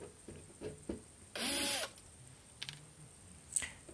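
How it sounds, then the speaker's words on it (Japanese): A cordless driver drill spins out screws on a refrigerator panel during cleaning, one short whirring burst in the middle among scattered light clicks and handling taps, close and fairly loud with no talking. "今動画では、 ドライバードリルで外していますけれども"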